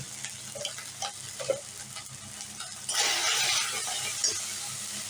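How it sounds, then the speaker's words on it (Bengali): Taro curry with turmeric and spices frying in a pan: soft stirring and light sizzling at first, then a louder, steady hissing sizzle, as if liquid has hit the hot oil, for the last couple of seconds. "একটু মশলা দেওয়া জল দিয়ে ভালো করে কষিয়ে নেব"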